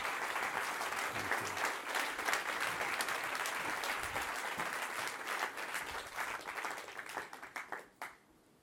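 Sustained audience applause after a film screening at Davos 2019, dense clapping from a large crowd holding steady for several seconds before thinning into scattered claps and fading out near the end.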